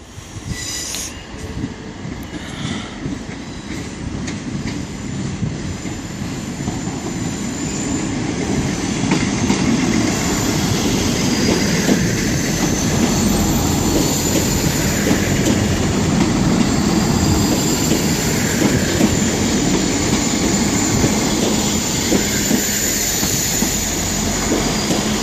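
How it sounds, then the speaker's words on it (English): A six-coach South Western Railway diesel unit from London Waterloo pulls into Exeter St David's station, its engine and wheels rumbling steadily louder with faint squeals and rail clatter as it arrives, close and loud with no talk. "looks like we got a 6-coach South Western Railway coming in from London Waterloo"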